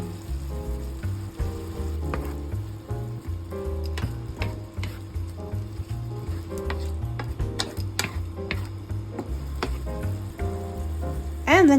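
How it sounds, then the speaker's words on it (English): Halved cherry tomatoes with apple cider vinegar, parsley, salt and pepper simmer in a pan for fish fillet, a steady close sizzle and bubbling with light ticks of the utensil and a brief louder stir near the end. "we simmer the tomatoes for 2 to 3 minutes."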